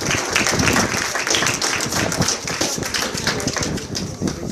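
A round of applause for a young honor roll student: loud, dense clapping from a gathered group, continuous and steady for the whole stretch.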